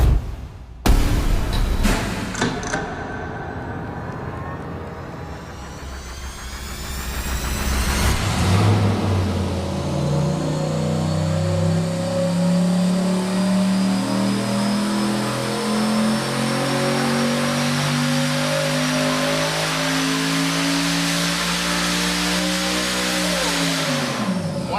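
A built engine with upgraded cam, heads and intake under boost runs on a dyno: a few sharp starting bangs and a rough idle, then a loud sustained pull climbing steadily in pitch for about fifteen seconds before cutting off.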